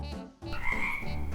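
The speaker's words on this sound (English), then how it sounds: "look, there's a frog." A frog by a pond gives a loud, close, sustained croak lasting about a second after a brief pause.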